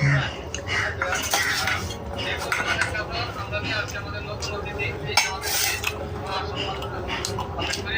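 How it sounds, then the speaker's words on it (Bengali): A spoon serves puti fish curry with potato and gravy into a bowl, making repeated close clinks and scrapes against the dish while a person talks. "তরকারিটা একটা বাটিতে দিই"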